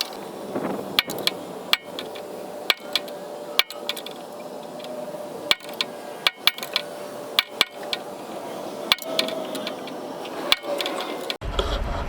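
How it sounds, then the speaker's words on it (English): A sledgehammer strikes a rod on a 20-ton tilt trailer in sharp metallic blows, heavy and close, spaced irregularly about a second apart over a steady background hiss. "Beat on this side, beat on the other side. Air hammer, sledgehammer"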